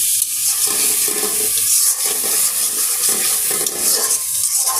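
Spice paste for egg korma frying in oil and being stirred in a pan, a steady, close sizzle with scraping stir strokes throughout and no talking.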